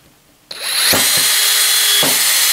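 A Festool drill spins into material with a loud steady whir, and the depth stop gives two or three sharp clicks within the run.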